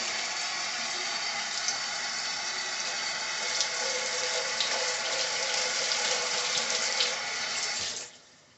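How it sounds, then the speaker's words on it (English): Water running from a kitchen tap over a cutting board being rinsed, a steady close splashing gush that holds for several seconds and then cuts off abruptly near the end. "So let me rinse my cutting board off."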